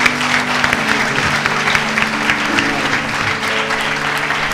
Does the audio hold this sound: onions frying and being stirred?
no